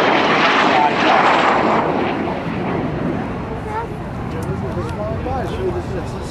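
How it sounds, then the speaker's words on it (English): A formation of F-80 Shooting Star and T-33 jets, Allison J-33 turbojets, passes at an air show open house, a loud broad roar that peaks early and then fades under crowd noise and talk. "the F-80 shooting star, the single-seat version of the T-33 we see here today, in close formation."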